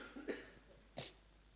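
Two short, close coughs, about a second apart, the second one sharper and breathier, during an Easter church service.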